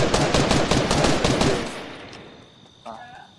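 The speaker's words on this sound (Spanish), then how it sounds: "Le disparamos para que caiga." Rapid automatic gunfire in the video game Fortnite, a dense burst of shots lasting under two seconds that cuts off, followed by quieter game ambience.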